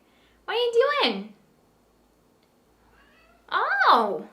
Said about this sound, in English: I don't know if you can hear my cat meowing away.